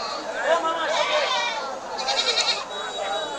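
Goats at a livestock market bleat in wavering, overlapping calls close by, with a busy crowd murmuring underneath throughout.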